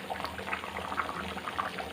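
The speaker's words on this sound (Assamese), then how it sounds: "এয়া এতিয়া উতলি আছে।" Paneer curry with potato, onion, chickpeas and tomato bubbling and simmering in a pot, a steady close bubbling with small pops and liquid movement, no talking.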